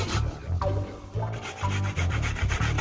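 Coconut flesh is rubbed against a metal grater in repeated rough scraping strokes, a rhythmic rasping close by, for Jamaican blue draws grater cake.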